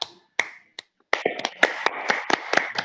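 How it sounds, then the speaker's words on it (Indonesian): A classroom group of children claps after a teacher's call, starting with a few isolated sharp claps before a dense burst of overlapping applause, close and moderately loud. "Tepuk tangan untuk kita semua."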